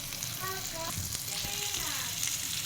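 Fish frying in a pan in a home kitchen: steady, soft sizzling and crackling of hot oil throughout, with faint clinks and scraping in the background.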